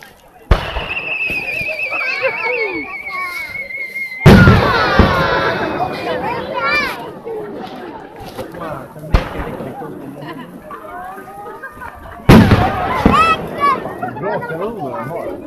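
New Year fireworks bursting over Furano, Japan: several loud, close booming explosions with crackling tails and a rising whistle, spaced a few seconds apart, while a crowd chatters and people talk throughout.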